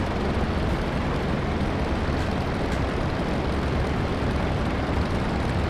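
Steady, loud engine drone of an I-16 fighter aircraft in DCS World, a constant broadband roar with no change in pitch and no voices.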